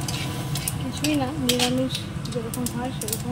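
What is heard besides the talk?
dried red chillies and cumin sizzling in hot oil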